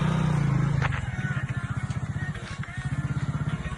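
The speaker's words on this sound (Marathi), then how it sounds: "सूर्य आता बाईक घेऊन जातो" A motorcycle engine putters with a rapid pulsing exhaust beat, starting with a steady drone, then chugging rhythmically as the bike pulls away nearby.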